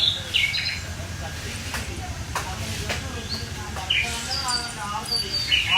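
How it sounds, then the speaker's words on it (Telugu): Recorded bird calls played as a sound effect at a nature-themed Ganesh festival pandal: high chirps and trills recur across the scene over a constant low crowd murmur, with people talking nearby. "and real birds sound effect కూడా పెట్టారనమాట"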